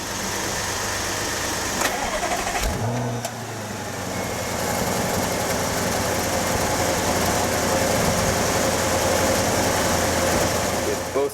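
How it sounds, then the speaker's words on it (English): Starter cranks a 2015 Audi A8 L 4.0T twin-turbo V8 in a garage; the engine catches with a rising flare, then settles into a smooth, steady idle that continues up close. "let's start up the Audi"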